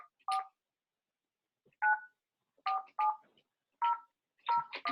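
Keypad tones on a phone punching in a meeting ID for a RingCentral Meetings call: about six short two-tone beeps spaced unevenly, clear and close, no talking over them.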